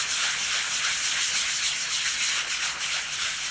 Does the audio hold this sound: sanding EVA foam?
yes